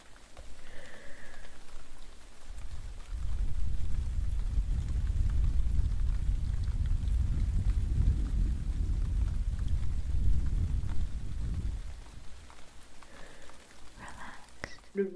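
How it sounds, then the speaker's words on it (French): Rain for an ASMR recording, a dense steady patter building in after a quiet start, fairly close and even, then thinning out near the end. "les bruits de pluie,"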